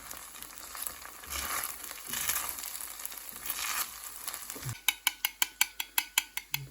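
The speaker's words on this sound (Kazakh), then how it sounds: "Күрішімізді араластырамыз." Cooked rice in a pan is stirred and scraped, a soft sizzling texture that ends in a quick run of about a dozen sharp, evenly spaced utensil taps against the pan.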